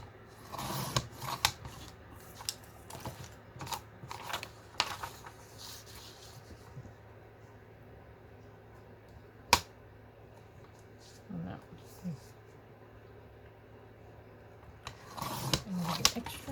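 Scissors cut paper for a vintage-style journal in scattered short, crisp snips and rustles, close but quiet, with gaps between cuts and brief handling noises.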